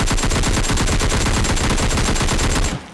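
Rapid automatic gunfire in a shooter video game, a dense, loud, continuous burst of shots lasting nearly three seconds before cutting off abruptly, with no talk.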